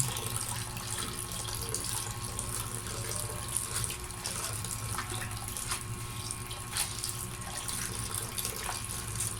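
Tap water runs steadily into a sink while homemade chewing tobacco leaves are washed, a constant splashing hiss with faint clinks and no voices.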